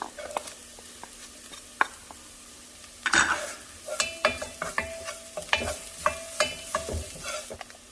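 Garlic with a pinch of salt sizzling in a soup pot, with irregular spoon scrapes and stirring knocks that grow busier and louder after a quiet start.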